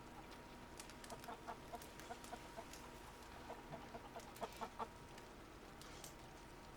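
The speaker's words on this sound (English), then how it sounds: "Chicken, rooster or hen?" Chickens clucking in Red Dead Redemption 2, a series of short soft clucks in loose bursts over quiet ambient background, fairly faint and distant, no speech.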